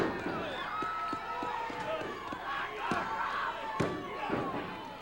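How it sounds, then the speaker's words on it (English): Wrestling arena crowd booing and jeering at Makhan Singh during a 1987 Stampede Wrestling match, a continuous roar of voices with thumps from the ring and a commentator talking over it. "the crowd expressing their disgust to Mukka Singh, and justifiably so"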